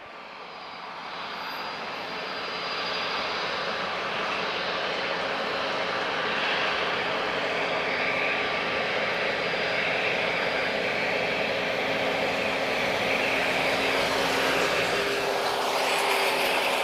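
Jet aircraft roaring on takeoff or landing at Lisbon Airport, heard from a distance, swelling over the first few seconds and then holding a steady, broad rumbling roar.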